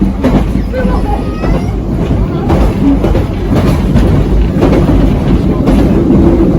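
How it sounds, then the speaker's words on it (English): Rickety old train on the Isle of Wight rattling and rumbling loudly and continuously, with clattering wheels and faint squeals over the steady roar. "it's quite a rickety old train"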